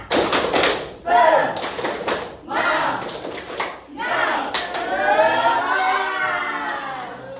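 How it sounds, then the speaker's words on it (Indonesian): Classroom of students doing a rhythmic spirit clap, several bursts of group clapping in a set pattern with shouting and voices mixed in, close and lively. "Tepuk semangat."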